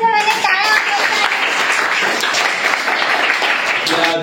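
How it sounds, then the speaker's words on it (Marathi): Schoolchildren at a primary-school quiz clap together in a steady burst of applause, close and lively, with young voices chattering underneath throughout. "याच्यासाठी सगळ्यांनी टाळ्या वाजवायच्या"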